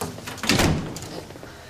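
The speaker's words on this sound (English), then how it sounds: "Close the door, please, Constable." An office door in a police station swings shut with a muffled thud and a brief rattle, close by and without talk.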